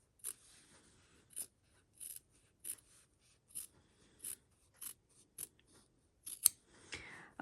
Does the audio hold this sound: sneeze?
no